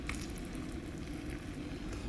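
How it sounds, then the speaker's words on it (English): Food sizzles in a My Mini cooker, a steady close crackle and hiss running evenly through the short stretch with no talking. "And you can hear it sizzling."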